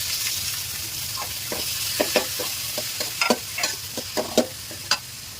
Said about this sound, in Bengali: এখন টমেটো দিয়ে দিচ্ছি।